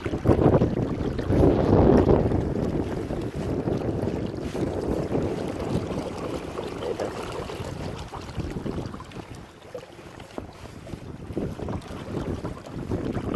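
A small boat motor runs steadily on a windy lake, its drone mixed with heavy wind buffeting the microphone and lapping water, strongest in the first few seconds and continuing without a break.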